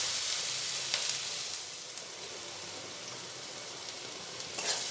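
Finely chopped onion fries in hot oil with tempering spices, a steady broadband sizzle close to the pan with faint stirring scrapes and a few brief crackles, no voices.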